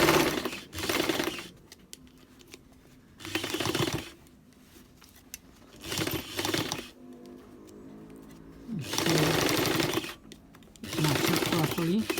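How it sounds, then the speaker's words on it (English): A domestic sewing machine stitching at its longest straight stitch length on a pink and black skirt seam, heard in several close bursts of rapid mechanical whirring and clatter separated by pauses, with a person talking between the runs. "So my own is the longest stitch on the sewing machine."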